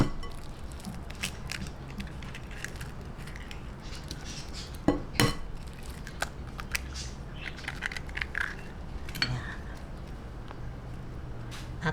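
Vegetable balls being mixed by hand in a bowl with flour, cornstarch and egg, continuous close scraping and soft squishing with occasional utensil clinks against the bowl, one sharper knock midway.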